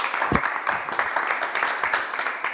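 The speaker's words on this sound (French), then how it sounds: "j'aimerais qu'on applaudisse le courage d'aller sur une si grande scène" An audience at a large concert-stage interview event applauds the artists, a dense burst of hand clapping that holds steady throughout, fairly close, with faint voices underneath.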